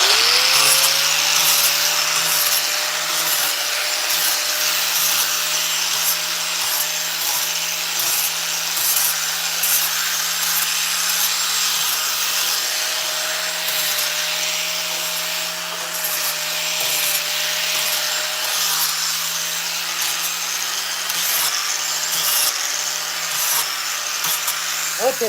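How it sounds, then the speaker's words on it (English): Steady, continuous power sanding on a carved wooden hot dog, a droning whir with a constant motor tone and gritty rubbing texture that holds for the whole stretch, close and fairly loud, with faint talk underneath at times. "So let's sand this dude off, and we'll clean him up real good."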